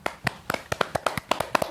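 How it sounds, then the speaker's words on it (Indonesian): An audience claps in an uneven patter of sharp, close hand claps, roughly a dozen in under two seconds, thin rather than a full crowd, with no talking. "semua penonton di sini tepuk tangan"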